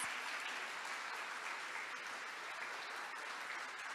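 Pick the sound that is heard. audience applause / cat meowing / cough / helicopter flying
audience applause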